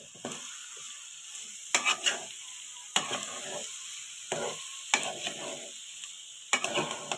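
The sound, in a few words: stirring rice with vegetables in a frying pan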